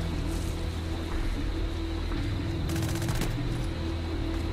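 Gunfire in the shooter game Hatred: a short burst of rapid shots cuts in over a steady noisy background, loud and close, lasting under a second amid continuous ambient rumble.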